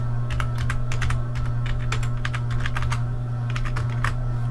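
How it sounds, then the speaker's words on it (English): Someone types a database username and password on a computer keyboard while installing WordPress on a server, producing a steady, close run of quick key clicks over a constant electrical hum, with no talking. "So we're gonna go ahead and type in tutorial, and then we'll create a password for that database."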